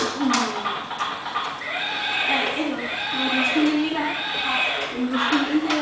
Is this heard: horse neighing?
yes